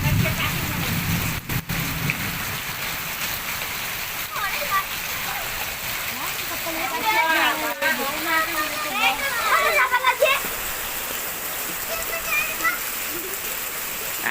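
Steady rain falls and splashes onto surfaces close by, a continuous hiss of drops, while voices talk over it partway through.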